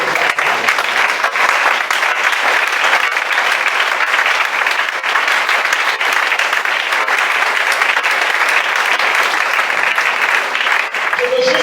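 A church congregation applauds at a Sunday service, dense continuous clapping that stays loud and even throughout, with voices mixed in beneath.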